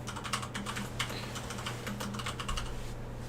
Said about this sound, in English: So we're going to type sudo.